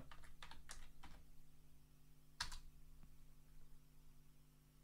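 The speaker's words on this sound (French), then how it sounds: "On va taper le mot de passe." Password typed on a computer keyboard during setup of MX Linux 18.3 on a Lenovo M700: a quick run of close keystrokes, then a single sharper key press after a pause, over low steady hum.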